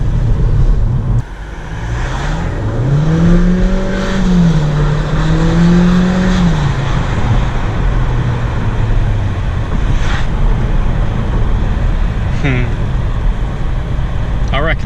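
A 2022 Audi A3 S line at night gives a steady engine drone as it accelerates, with rising and falling revs and turbo whoosh, while people talk over it inside the cabin.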